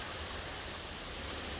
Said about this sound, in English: you got a bunch of different places that the water's coming in from. All running down.